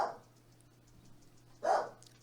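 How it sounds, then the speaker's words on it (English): Two short dog barks, one at the start and another after a pause, fairly faint in a quiet room. "You can hear her barking."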